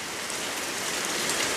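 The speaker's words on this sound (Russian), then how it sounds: "вовремя дождь пошел, потому что мы только вышли на улицу, и он прям пошел" Steady rain falls outdoors on a street in Spain, a dense, even hiss of drops on hard surfaces with no pauses, moderately loud and close, with no voices present.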